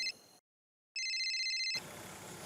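A telephone rings in a short electronic trill after a brief silence, loud and close, then gives way to room noise.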